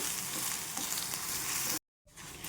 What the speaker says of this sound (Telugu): ఈ పసుపు వేసుకున్నాక చక్కగా ఇదంతా కలిసేలాగా తిప్పుకుంటూ మనము ఈ కొబ్బరిని ఫ్రై చేసుకోవాలి